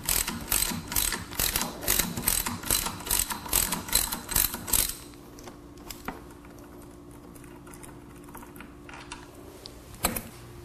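A ratchet fitted with a Torx T50 bit loosens a handlebar bolt on a BMW K1600GT/GTL or R1200 RT motorcycle, giving a fast run of loud clicking pulls for about five seconds, then quieter handling sounds and a single knock.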